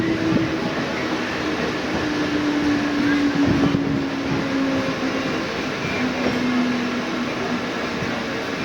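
A suburban train on the Sealdah to Taki Road line enters Bidhannagar Road station, heard from on board as a loud, continuous rumble with a faint steady whine running beneath it.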